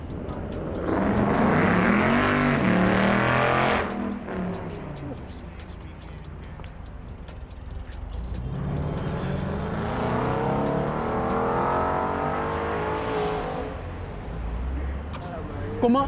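A car engine revs loudly and sweeps past on a road, with a sustained roar that fades and then builds again for a second pass. A person talks over the engine noise.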